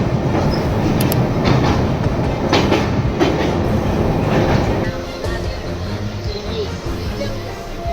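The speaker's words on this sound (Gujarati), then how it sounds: "અત્યારે આપણી મહુવા ભાવનગર ટ્રેન આવી રહી છે" Mahuva–Bhavnagar passenger train arriving at a station: loud, steady rumble and clatter of wheels and carriages drawing near. Squeals run through it, and the noise eases down after the midpoint as the train slows.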